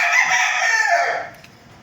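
An Asil-Sweater cross rooster, half Asil and half Sweater, gives a single loud, close crow that holds strong for about a second before trailing off, with no other sounds around it.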